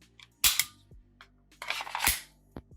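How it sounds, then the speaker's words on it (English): Magazine inserted into a Heckler & Koch USP Expert pistol: a couple of sharp, close metallic clicks and clacks, quiet between them. "Pop in a mag."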